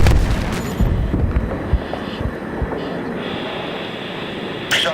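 Bombs dropped from an aircraft in the Battlefield 3 video game blow up in a string of heavy, rumbling booms, several thuds over a continuous low roar of engine and battle noise, with one sharper burst at the end.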